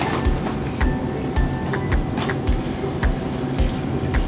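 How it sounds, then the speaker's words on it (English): Lemonade pours steadily into a cup, a continuous soft splashing trickle with faint taps at a moderate, close level, without any talking. "And pour that whole thing in there."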